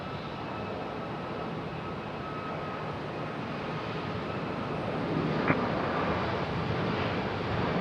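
Airliner bound for Reykjavik, Iceland at Raleigh Durham airport, a steady broad engine roar heard from a distance, growing slightly louder midway, with one brief sharp click.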